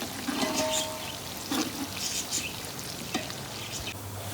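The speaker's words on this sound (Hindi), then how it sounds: "प्याज को फ्राई कर लेते हैं।" Sliced onions fry in hot oil in a pan for Kabuli pulao, giving a steady close sizzle with soft stirring scrapes and faint crackles throughout.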